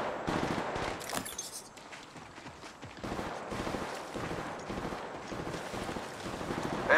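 Sustained gunfire from the mobile video game Apex Legends Mobile: rapid bursts of shots crackle continuously throughout, loud and close, over a windy outdoor ambience.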